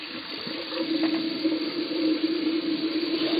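Tap water running steadily into and through a shisha (hookah) base as it is rinsed out, a continuous close hissing splash with no talk.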